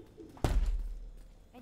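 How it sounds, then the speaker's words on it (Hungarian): Pigeons nearby give a single low, throaty coo-like burst with a soft thump, heard briefly over quiet room noise while God of War is played. "Galambok meg nem nyugszanak itten."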